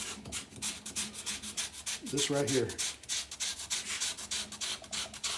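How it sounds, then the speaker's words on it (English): A drill press sander shapes and smooths a wooden guitar neck with steady rhythmic rubbing and sanding strokes, close and loud, while someone speaks briefly partway through. "put on the drill press sander"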